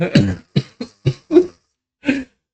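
A person coughs about six times in short separate bursts, close and fairly loud, with a pause before the last cough.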